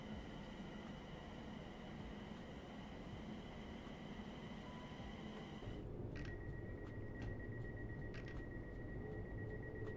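A London Underground Bakerloo line train running through a tunnel in Train Sim World 6, using sound-modded tunnel recordings: a steady loud rumble and roar, with a change in tone partway through and high tonal whines over the drone.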